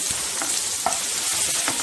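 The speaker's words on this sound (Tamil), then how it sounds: "இப்போது கருவேப்பிலையும் வெங்காயமும் போட்டுக்கலாம்." Curry leaves and chopped onions frying in hot oil in a pan for a Tamil lunch dish, giving a steady close sizzle with a few soft stirring scrapes and no talking.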